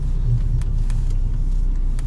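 A 2020 Lada Granta with an automatic gearbox, held in first gear, spins its wheels in fresh snow, giving a loud, close, steady engine drone with a low rumble throughout.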